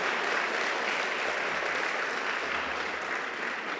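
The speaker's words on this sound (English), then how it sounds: "Why don't we give a round of applause for our students and our" An audience at a memorial and community awards ceremony applauds students and scholarship benefactors, a dense, steady roar of many hands clapping that holds at full volume throughout.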